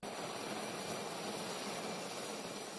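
A medical rescue helicopter operated by the gendarmerie makes a steady, loud whirring engine roar with a high whine, continuous and close throughout, and no one speaks.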